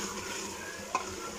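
Food fries and sizzles in a pan with a steady hiss while being stirred, with a single metallic clink of the spoon against the pan partway through, close up and without talk.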